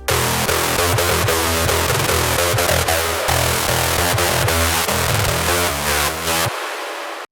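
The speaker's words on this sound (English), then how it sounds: "Basically a very acidy type of lead." An acidy, buzzy synth lead built in Sylenth1 for a hardstyle track plays loud and alone in a fast, rhythmic pattern of stabbing notes, ending abruptly with a brief fading tail.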